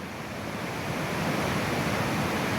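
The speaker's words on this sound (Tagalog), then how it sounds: "Yan, dyan, yung ilog na yan." River water from Kanlaon, flowing steadily at a childhood swimming spot, rushes as a dense, loud, continuous wash with wind noise on the microphone and no talking.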